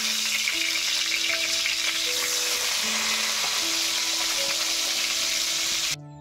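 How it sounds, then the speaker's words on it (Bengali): Fish head frying in hot oil in a wok, a dense continuous sizzle and crackle close up, with faint scattered tonal clinks, steady for several seconds before cutting off abruptly. "এবার আমি তেলটা গরম করে মাছের মাথাটা ভেজে নেব"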